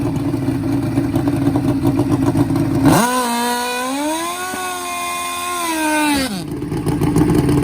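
Drag racing motorcycle engine at the track, a loud rough idle that swells into a sustained high rev held for about three seconds, then drops back to the idle.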